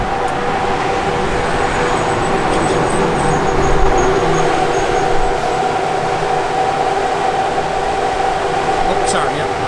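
The blower motor fan in a 1965 Chevrolet Impala SS runs with a steady whirring drone and a faint tonal hum throughout, heard close inside the car.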